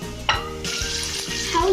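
Breaded panée slides into hot oil with a sharp splash, then fries with a bright, continuous hiss that swells and holds, with small clinks of utensils nearby.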